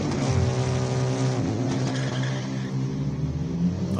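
A Volkswagen Super Cup Polo race car screams up a hill climb course, its engine holding a loud, steady high-revving drone with shifting harmonics throughout, close and continuous.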